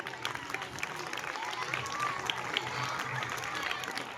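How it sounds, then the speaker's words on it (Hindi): A crowd of parents and guests applauds at a school Republic Day celebration, a fairly soft, continuous patter of clapping heard from some distance in an open space. "तो एक बार पेरेंट्स के लिए भी जोरदार तालियां।"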